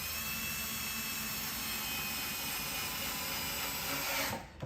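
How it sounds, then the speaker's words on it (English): A power drill drives screws into the wooden parts of a new bee hive with one continuous loud whine that holds steady, then cuts off abruptly at the end. "Simply screwing those in."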